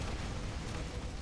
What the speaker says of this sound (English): I'm just going to drop explosions on them